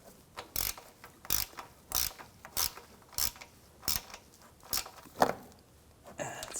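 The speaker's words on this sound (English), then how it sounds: "Tighten the lower bolts. Nice and snug." Ratchet clicking in short repeated bursts while tightening the lower radiator bolts on a 2010-2014 Volkswagen GTI 2.0 L4, about nine evenly spaced crisp clicks, close and fairly loud.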